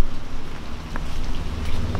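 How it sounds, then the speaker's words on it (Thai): Rain falls at a seaside hotel in Hua Hin, a steady, close hiss of drops hitting surfaces with a few sharper splashes standing out, no voices over it. "ฝนตกมาแล้ว"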